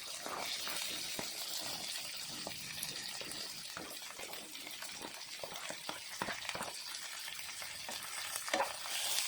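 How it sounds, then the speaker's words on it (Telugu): Green chillies and onions sizzle in a pan over a low flame while cooking a thotakura (amaranth leaf) curry, a steady crackling hiss broken by scraping stirs, close and fairly quiet. "ఇప్పుడైతే ఆనియన్ అయితే వేసేద్దామండి."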